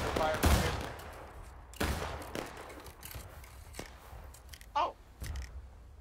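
Musket volleys from the Civil War battle game War of Rights crack out in several sharp bursts, some near and loud, others more distant, between quieter stretches of battlefield noise.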